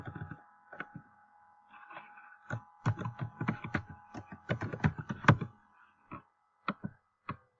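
Soft, close clicks of typing on a computer keyboard come in an irregular flurry of keystrokes, then a few spaced single taps, quiet with no one talking.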